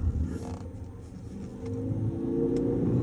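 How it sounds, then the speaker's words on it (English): A 2013 Ford C-Max Hybrid SEL drives along a road, giving a steady low rumble of engine and tyre noise from inside the cabin that grows slightly louder toward the end, with faint creaks and no talking. "I'm gonna drive it down the road so you can see that it drives."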